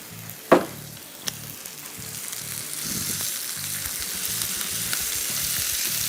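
Chicken sizzles on a grill pan over a high flame, a steady broadband hiss that builds slightly louder, with a sharp clatter near the start and a few small knocks, no voices.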